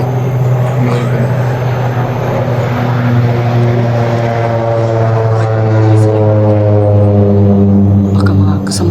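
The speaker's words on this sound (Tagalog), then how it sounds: "Nag-monitor yan ng eroplano na yan." Propeller airplane passing overhead, a loud steady droning engine roar that fills the whole stretch, with outdoor voices talking underneath.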